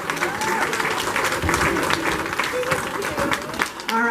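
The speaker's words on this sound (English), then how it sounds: "give it a round of applause to Phyllis Diller" Applause at a birthday gathering, loud and close with uneven clapping, while voices talk and call out over it.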